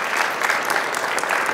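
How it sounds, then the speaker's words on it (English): Brief, fairly faint wash of applause from students and staff at a high school award presentation, steady crowd clapping heard from a distance. "So give yourself a round of applause."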